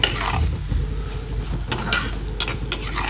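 Chilli pickle frying on low heat in a pan, a steady soft sizzle with a spoon stirring and scraping against the pan, a few sharper clinks near the end.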